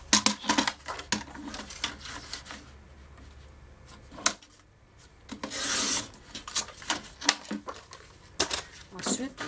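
Paper being cut for a small Tim Holtz scrapbooking folio, a series of close, crisp rasping strokes and scrapes in irregular bursts with short pauses between them.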